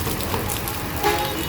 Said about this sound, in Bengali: ভালো বৃষ্টি হচ্ছে।